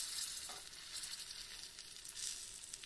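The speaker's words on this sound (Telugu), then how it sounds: "ఇలా మరుగుతున్న చారులోకి ఈ పోపు అంతా ఇలా వేయాలి." Hot tempering poured into boiling betel leaf and tomato rasam, giving a steady bright sizzle and hiss that holds evenly throughout with no talk.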